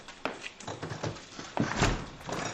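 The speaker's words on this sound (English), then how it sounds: "you shut the door" A home door is pushed shut with a few soft thunks and rattles, close by and moderately loud, followed by a heavier bump near the end, with no talk.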